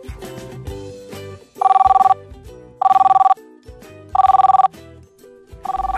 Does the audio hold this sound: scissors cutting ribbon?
no